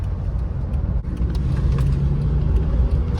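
A Honda Fit GE fitted with Fortune Auto coilovers driving along a road, heard from inside as a steady low engine and road rumble with tyre noise, close and fairly loud, no talk.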